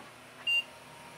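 An old desktop PC gives a single short, clean electronic beep on startup, a brief bright tone standing out over a low steady hum of fans.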